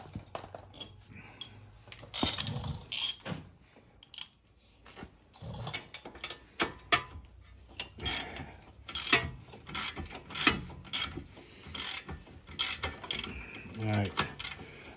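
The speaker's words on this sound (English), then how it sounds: "Now I'm gonna switch over to my ratchet." A ratchet turns a bolt on a 2002 Ford Taurus strut, making close, crisp clicking in irregular bursts with brief pauses and metallic taps between strokes.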